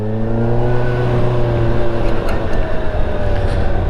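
A Suzuki Hayabusa motorcycle engine runs steadily and loudly up close, with a deep, even drone and a slight rise in pitch, and no voices over it.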